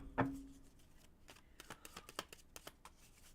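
Tarot cards are shuffled by hand during a live reading, a sharp opening knock followed by a quick run of crisp riffling clicks and flutters, close and fairly quiet, with no voices.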